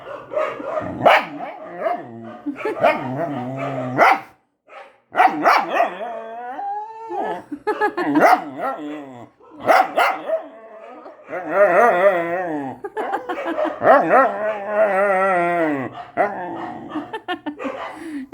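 A German Shepherd indoors barks, yips, whines and howls in long drawn-out bursts, loud and close, reacting to dogs outside, with short pauses between the outbursts.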